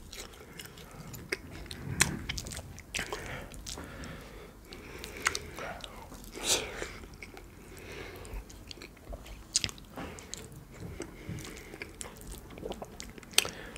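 Close, quiet eating of egusi soup with fufu and beef: soft wet chewing, squishing and occasional crisp bites, steady throughout with faint breaths and no talking.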